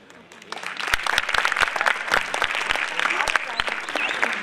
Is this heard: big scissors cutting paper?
no